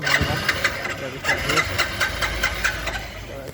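A Hero HF Deluxe motorcycle engine cranks and catches, then settles into a steady, knocking idle with rhythmic pulses, while a person talks over it.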